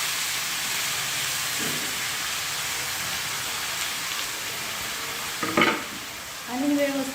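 Chopped hadga flower leaves sautéing with turmeric powder in a pan, a steady close sizzle and hiss with a few brief stirring knocks near the end.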